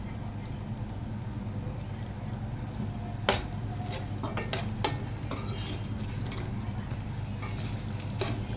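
Ginger and spices stir-fry in a pan over medium heat with a steady sizzle, broken by a few sharp scrapes and clinks of stirring around the midpoint; no talking.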